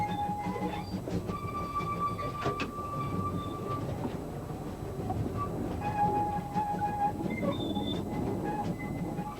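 A steam train on the Lynton and Barnstaple Railway rumbles steadily along the rails with rhythmic clatter and occasional squealing metallic tones, heard from on board at moderate volume, no voices.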